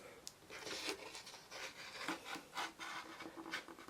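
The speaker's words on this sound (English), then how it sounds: "this porthole I'm cutting now is going to be 7-inch" A 7-inch porthole is being cut for a pattern, heard as short, fairly faint rasping strokes in an irregular rhythm, each a brief scrape against the material, with no speech.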